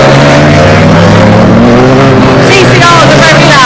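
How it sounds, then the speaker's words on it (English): TCR touring race cars roar around Croft Circuit, loud engines howling and shifting pitch as they pass close by, with someone talking over the din. "TCRs are very loud."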